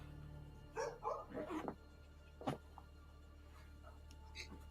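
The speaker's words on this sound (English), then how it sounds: "Dogs are going nuts." A few short dog barks, somewhat distant, come in a quick cluster early on, then a single sharp bark and faint yips after, over a low steady hum in a room.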